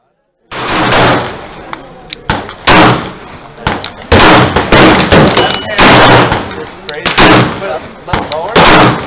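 Loud gunshots from first-person target shooting at cardboard targets on a range ring out in close repeated bursts, sharp cracks following one another after a brief silent start.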